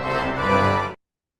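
A pipe organ sounds a full, bright grand jeu registration from a recording, one dense sustained chord lasting under a second before cutting off abruptly into silence.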